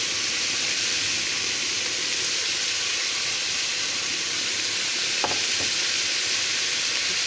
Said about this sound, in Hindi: इसको भूनते वक्त ही साथ में हम टमाटर भी डाल देंगे।